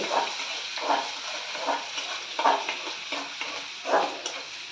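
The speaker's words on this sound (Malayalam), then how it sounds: "വെളിച്ചെണ്ണ ഇച്ചിരി ചൂടായി വന്നിട്ടുണ്ട് അതിലേക്ക് ഇച്ചിരി വെളുത്തുള്ളി ഇഞ്ചി ചതച്ചത് ചേർത്ത് നന്നായി ഒന്ന് ഇളക്കി കൊടുത്ത്" Crushed garlic and ginger stirred in hot coconut oil for a Kerala chicken curry, a soft steady sizzle punctuated by regular scraping strokes of a spoon around the pan.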